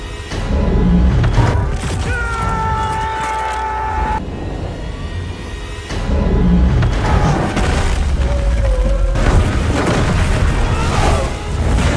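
A magic wand explodes: a loud, deep explosive boom with heavy low rumble, layered with ringing tonal sounds that continue for several seconds.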